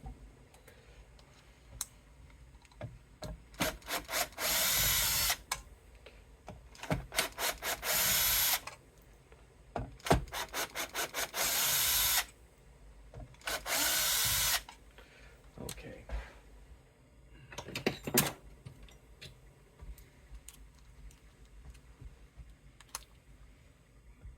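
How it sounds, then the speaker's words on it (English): A power drill whirs in several loud bursts of a few seconds each, drilling out parts on a vintage Harmony guitar, separated by clicks, handling noise and quiet gaps. "Let's drill those out."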